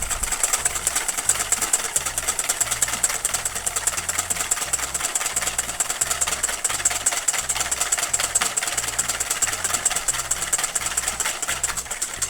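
An electric mixer whisks egg whites to soft peaks for cloud eggs, giving a steady, loud motor whir with a low rumbling undertone that runs unbroken throughout, with no talking.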